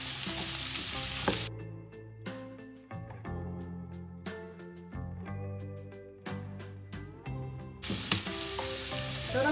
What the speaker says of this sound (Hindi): प्याज को अच्छे से ऑयल में फ्राई होने देना है।